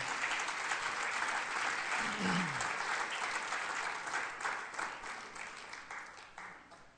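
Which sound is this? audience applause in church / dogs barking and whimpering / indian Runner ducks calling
audience applause in church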